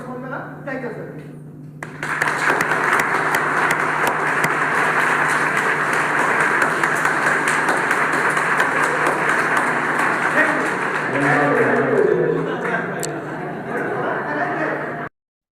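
Sustained applause from an audience at a Diwali evening harmonica performance, steady dense clapping lasting over ten seconds with light chatter and laughter mixed in, then cutting off abruptly.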